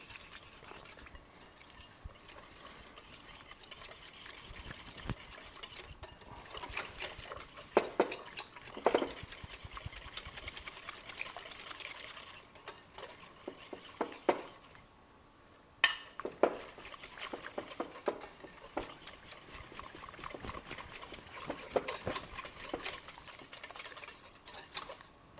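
A French whisk stirring ingredients for a potato salad in a bowl, rapid repeated metal clinks and scrapes, close and fairly quiet, with brief pauses.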